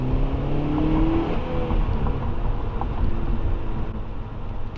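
A 2015 Honda Civic Si's 2.4-liter four-cylinder engine revs up with a rising exhaust note, then settles into a steady throaty drone as the car drives on, no talking.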